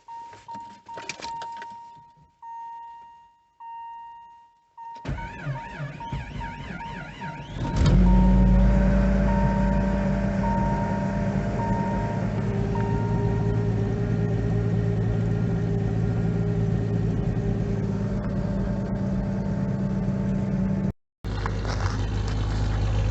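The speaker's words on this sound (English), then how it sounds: "1995 Jeep Grand Cherokee with a 4-liter straight 6 engine. Gonna go ahead and get a cold start here." Cold start of a 1995 Jeep Grand Cherokee with a 4.0-liter straight-six in sub-zero winter weather: clicks and a brief crank, then the engine catches around eight seconds in and settles into a loud, steady close idle.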